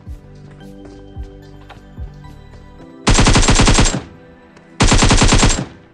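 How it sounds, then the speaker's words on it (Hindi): Gunfire in a shooting video game, starting with a few scattered shots and then two loud rapid-fire bursts of about a second each, close and dense. "मुझे नीचे से गनशॉट का साउंड आता है"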